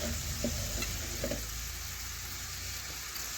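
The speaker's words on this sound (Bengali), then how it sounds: "স্বাদ মতো লবণ দিয়ে এখন নাড়াচাড়া করে একটু টমেটো গলিয়ে নেওয়া পর্যন্ত একটু ভেজে নিচ্ছি" Tomato and mustard paste with salt sizzles gently in a pan while a spoon scrapes and stirs it a few times, a soft, steady frying hiss with no talking.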